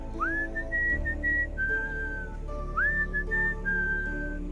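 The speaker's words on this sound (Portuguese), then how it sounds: "O assobiador tem a mesma melodia todas as noites. É alegre." Someone whistles a bright, cheerful melody of long, sliding notes over a low, steady background hum.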